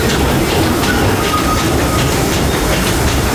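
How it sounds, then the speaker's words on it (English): The Disneyland Railroad train rolling along its rails, a loud continuous rumble with rhythmic wheel clatter heard from on board. "please remain seated until the train comes to a complete stop"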